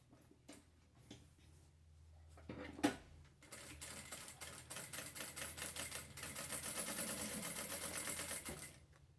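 A sewing machine runs in bursts, short stops and starts giving way to a long steady run of rapid stitching through fabric for a small backpack with little legs, moderately loud and close with no talk.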